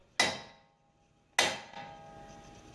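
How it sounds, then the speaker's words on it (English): Two sharp metallic strikes about a second apart as a center punch is hammered into metal, each ringing briefly and fading, close and loud. "Use a center punch. Punch right in the center of your hole."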